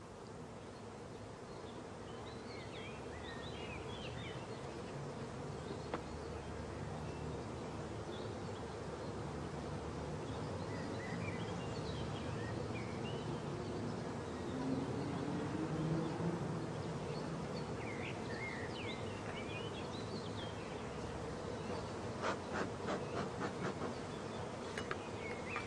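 Honey bees swarm over the comb at a hive during queen rearing, producing a dense, continuous buzzing hum with individual bees droning close by at times, steady and fairly faint, with no talking.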